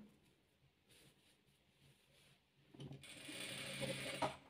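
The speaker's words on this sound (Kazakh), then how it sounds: "Енді осылай үшінші қатарын тігеміз." A sewing machine stitches rows of a chess-pattern quilt, starting quietly with soft mechanical ticking and then running faster and louder in a dense whirring burst near the end.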